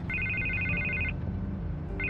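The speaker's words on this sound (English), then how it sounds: "I can't get the phone to stop ringing." A phone rings in the Batman: The Telltale Series video game, a steady electronic trill in repeated bursts over a low ambient music bed.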